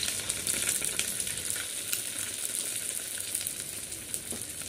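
Wheat poovada sizzles and crackles steadily as it fries in oil in a pan, a close, continuous bubbling hiss with no talking.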